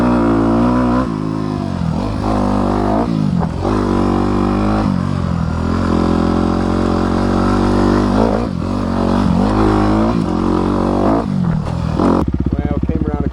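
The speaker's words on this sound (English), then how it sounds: "So I just wanted to get a dirt bike. So here we go." A dirt bike engine revs loudly and continuously while riding, its pitch rising and falling through repeated throttle surges and gear changes, with mechanical clatter throughout and a brief change near the end.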